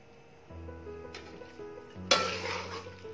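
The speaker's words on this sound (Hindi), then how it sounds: "मिक्स कर लें इसको अच्छी तरह।" Green onions stirred into biryani masala in a metal pot: a spoon scrapes and clinks against the pot amid soft sizzling, with a sharper clank partway through, close and fairly quiet.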